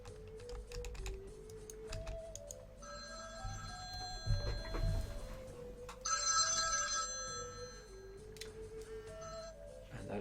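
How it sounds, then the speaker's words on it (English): A telephone rings repeatedly and goes unanswered, its bell bursts recurring over a melodic game soundtrack with some keyboard clatter in the background. "And that is one ignored phone call."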